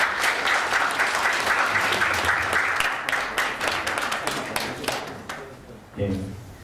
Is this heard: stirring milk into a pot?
no